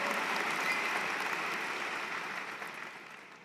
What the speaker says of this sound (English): I heard the applause start.